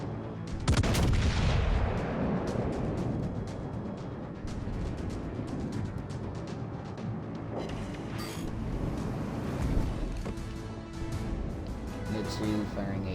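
The battleship Mutsu fires high-explosive shells in the World of Warships video game. Heavy booming salvos and rumbling explosions roll over continuous battle noise, with a strong blast near the start.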